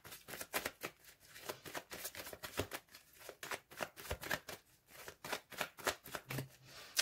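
Petit Lenormand fortune-telling cards being shuffled by hand, a steady run of crisp riffling slaps and flicks repeating close up for several seconds with no talking.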